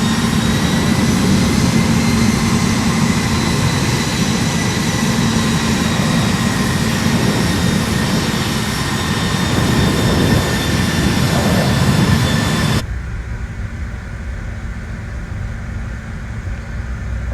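Regional jet engines hum steadily during taxi in Microsoft Flight Simulator 2020, with a continuous whine and droning rumble that cuts abruptly to a quieter background near the end. No voice is heard.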